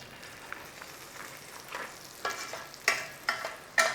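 Sliced potatoes frying in oil and butter for German-style Bratkartoffeln, a soft steady sizzle with several sharper crackling pops toward the end, close and fairly quiet.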